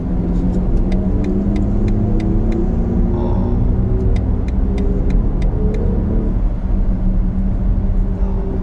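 A BMW XM's V8 plug-in hybrid engine hums steadily with a constant low road rumble, heard from inside the moving vehicle on an expressway, with no talking.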